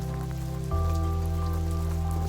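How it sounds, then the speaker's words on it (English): Hard freezing rain comes down during a Texas winter storm, a loud, continuous patter over a steady low mechanical hum that shifts pitch partway through. No one speaks. "Hardcore freezing rain."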